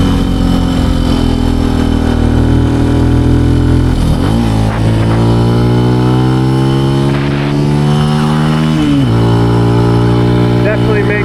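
Benelli TNT135 small motorcycle engine revving hard while riding, loud and close, pitch climbing through the gears with brief dips at each shift as a voice talks over it.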